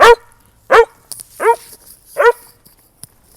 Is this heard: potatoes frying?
no